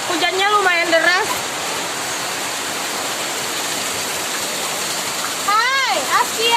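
Heavy rain falling outdoors while children play in it, a constant dense hiss throughout, with a voice speaking over it at the start and again near the end.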